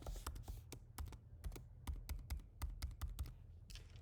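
Keys on a computer keyboard being pressed to enter a password, a quick irregular run of crisp close clicks with brief pauses, alone with no voices.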